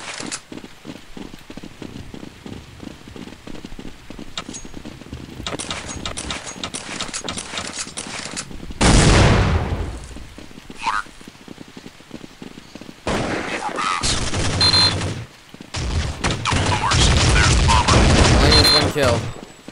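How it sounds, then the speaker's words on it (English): Rapid bursts of automatic gunfire and loud grenade blasts fill a Counter-Strike Condition Zero firefight. The crackling volleys come in long dense stretches, broken by a deep whooshing explosion midway. "Now they're throwing grenades like an idiot."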